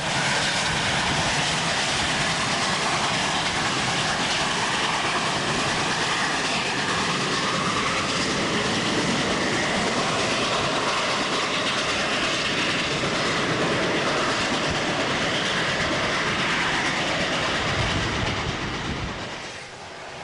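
A steam train rushes downhill, roaring past loudly and continuously with rattling, rushing wheels and clatter for about twenty seconds before fading slightly at the end.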